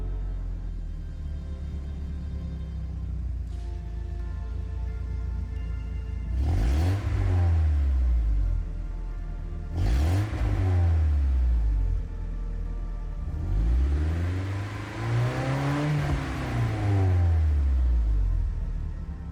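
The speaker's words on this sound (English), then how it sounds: "This tryouts I am doing Silvia's Q S13 1988. A phenomenal little tuner car." A 1988 Nissan Silvia Q's S13 tuner car in Gran Turismo 7, its engine revving in three rising and falling bursts over a steady idling rumble, close and loud with no talk.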